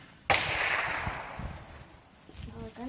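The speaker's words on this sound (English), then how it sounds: "Another gunshot, huh?" A single gunshot cracks at an outdoor shooting range, one sudden loud report followed by a fading tail, then quieter background.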